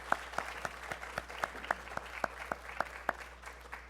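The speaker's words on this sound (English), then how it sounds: "let's have some applause for these candidates" Sparse clapping for election candidates at a candidates forum, a few distinct claps landing in a loose, fairly regular rhythm over a low hum, sounding like a small audience.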